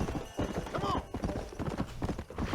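Horse hooves clip-clop at a steady trot in the video game Red Dead Redemption, close and fairly loud, with a voice and a brief whinny mixed in.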